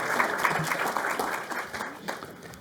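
Audience applause after a presentation, a dense patter of many hands clapping that holds steady and then gradually thins out, with a voice or two mixed in.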